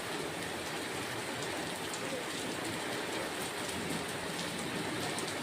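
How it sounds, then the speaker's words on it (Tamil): Steady rain falls on a wet street in Chennai, a dense, even hiss of drops heard nearby and fairly soft, unbroken throughout. "மழை பெய்கிற சத்தம் கேட்குதா?"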